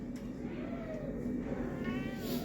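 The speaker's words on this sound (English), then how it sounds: "Did you know that cat is scared, Sam?" A frightened cat meows a few times, the thin wavering cries coming through fairly faintly over a steady low background hum, with no speech.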